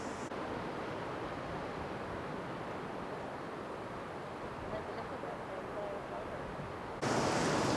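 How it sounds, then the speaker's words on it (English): Strong wind blows outdoors at a wildlife park, a steady, loud roaring rush buffeting the microphone that swells even harder near the end. "The wind is absolutely bonkers."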